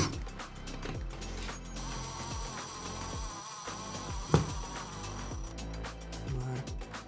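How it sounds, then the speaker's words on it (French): Screws are driven in by hand to refit a small bar on a desk setup, giving a run of close ratcheting clicks and light mechanical ticks with one sharp knock. "la remettre et visser les vis."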